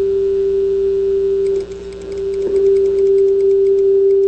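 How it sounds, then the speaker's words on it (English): A steady, pure electronic tone from a synthesized oscillator hums continuously at 40 hertz, with faint ticking clicks and a brief dip in loudness midway. "we now have a nice oscillator, which is ringing at 40 hertz"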